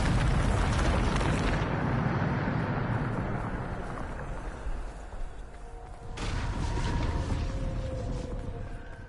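A Bombarda explosion spell in a video game erupts as a heavy, rumbling blast that decays slowly into a roaring wash, then a second burst of debris and rumble follows, loud and alone.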